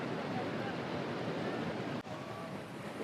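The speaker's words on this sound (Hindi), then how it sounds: "लहरें चेक करो भाई, लहरें कैसी लहरें, कितनी कितनी लहरें आ रही हैं।" Ocean waves surging and breaking on a beach in Bali, a continuous loud wash of surf with wind across the microphone and a brief dip midway.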